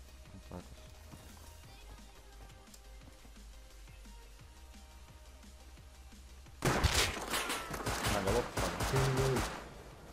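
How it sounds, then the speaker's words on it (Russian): Gunfire rings out in the survival video game Rust, arriving as a loud, dense burst of rapid shots in the last few seconds after quieter game ambience with light footstep-like ticks. "По мне сзади стреляет, слышишь,"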